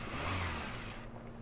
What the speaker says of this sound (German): Dann schalten wir den Motor mal an.